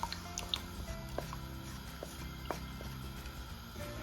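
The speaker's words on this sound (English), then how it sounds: "I'm going to transfer in this semolina paste" Thick semolina paste plops and squishes wetly into boiling water, with scattered drips and soft splashes, quiet and close.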